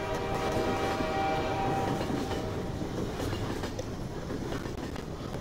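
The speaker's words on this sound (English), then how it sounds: "Train." A train passes in the video game Transmissions: Element 120, a steady loud rumble with rhythmic clatter and a tonal horn-like drone throughout, no talking.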